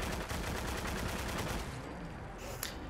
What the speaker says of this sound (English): Let's see how we do finally with the full auto Browning.